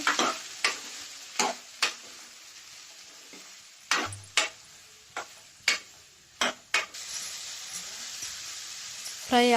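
Tomato frying in a pan for okra fry, a soft continuous sizzle broken by repeated sharp clacks and scrapes of a spoon stirring against the pan.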